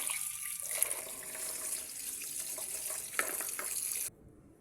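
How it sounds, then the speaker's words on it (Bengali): Small fish are washed under a running tap, giving a steady hiss of flowing water with light splashes and handling noises up close. The water then cuts off abruptly near the end. "এই তো মাছগুলো ধুয়ে নিব"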